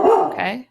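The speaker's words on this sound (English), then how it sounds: "That's my dog. Please stop barking in my videos." A dog gives one short bark close by, overlapping with a person's voice.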